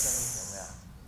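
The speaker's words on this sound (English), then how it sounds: "you blow it through the gaps in your teeth" Breath pushed out through gaps in the teeth as a sharp, close hiss that starts loud and tapers off within about a second, with a faint voice underneath.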